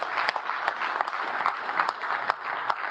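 Audience applause at a conference session in Zurich, a steady crowd of clapping with dense overlapping hand claps, moderately loud and continuous for about three seconds with no speech.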